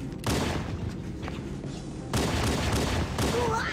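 Heavy gunfire in Halo: Combat Evolved, a sustained burst of rapid shots that briefly drops off before a second loud burst starts up, with booming thumps mixed into the dense rattle.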